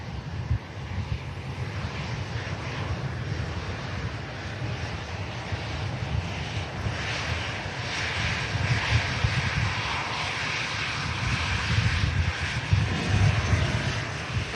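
An Airbus A380 on final approach to Manchester Airport, still about nine miles out, gives a steady, distant engine roar that swells slightly over time, mixed with light wind noise on the microphone.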